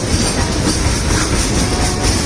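A train on a railway track gives a loud, steady rumble with continuous rattling clatter of wheels and cars, close by and unbroken throughout, with no voices.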